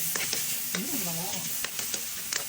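Hot oil crackles and hisses around garlic and onion cooking for pork binagoongan, a continuous close sizzle broken by utensil scrapes and stirring.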